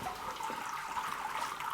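During beer brewing, sparge water flows and trickles steadily with a running pump, a continuous watery hiss with no talking over it.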